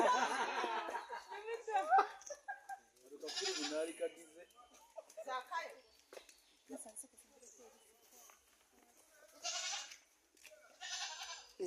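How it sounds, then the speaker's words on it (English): A goat at a zoo in Uganda bleats repeatedly in short bursts, near and clear, while people talk and laugh around it. "can you do something about that goat?"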